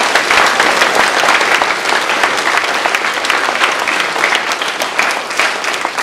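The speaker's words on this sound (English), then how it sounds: "let's give the directors here a round of applause" Sustained audience applause for band directors at an area band concert, dense steady clapping from a large crowd filling the whole stretch at an even, loud level.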